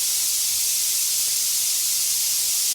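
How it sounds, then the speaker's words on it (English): An airbrush loaded with airbrush cleaner sprays at full throttle, giving a steady, loud, unbroken hiss that runs alone for nearly three seconds before cutting off abruptly. "I'm just going to pull back full throttle and you can see the spray pattern there."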